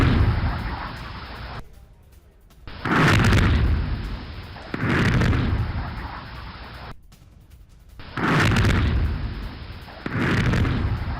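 Bombardment of a court building in Vovchansk during the Russia-Ukraine war: heavy, rumbling booms recur in slow, regular waves every couple of seconds, loud and dense with no voices.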